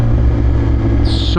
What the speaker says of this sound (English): The sound of that freaking exhaust, bro.